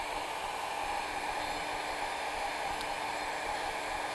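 Heat gun blowing a steady, even rush of hot air onto old Bondo body filler, a constant loud hiss with no breaks and no talking.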